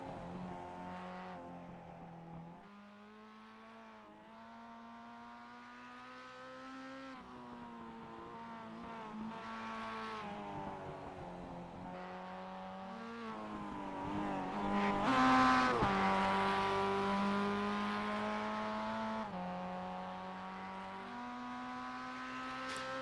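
A Mazda MX5 Cup race car laps Lime Rock in the iRacing sim, its engine note steady and close, climbing and dropping in pitch through gear changes and swelling louder near the middle of the run.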